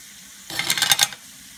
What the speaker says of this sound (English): it's pretty hard to mess up mushrooms if you're sauteing them in a pan